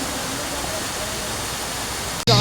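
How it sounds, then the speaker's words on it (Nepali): Laukhe waterfall, a large waterfall in Nuwakot, Nepal, roars as a loud, steady wash of broadband water noise close by. The sound cuts out abruptly near the end, then resumes with a different texture. "एकदमै ठुलो झरना छ।"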